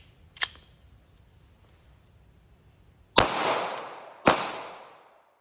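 A 3D-printed Hi-Point C9 pistol on an EBT-9 frame fires on a quiet range. One faint early crack is followed after a long pause by two sharp, loud reports about a second apart, each trailing a short echo.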